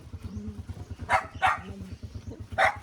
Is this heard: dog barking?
yes